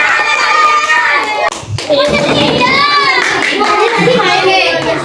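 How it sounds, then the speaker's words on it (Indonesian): Schoolchildren clapping together in a primary-school classroom during a lesson, a dense sustained patter of many hands that fills most of the stretch, with children's voices mixed in. "Ya, tepuk tangan untuk Putri yang sudah menimbulkan."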